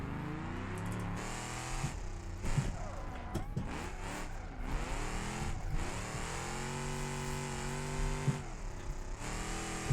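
Car drifting through a slide with counter-steering left and right, its engine revving and droning steadily with rising and falling pitch, close and loud throughout.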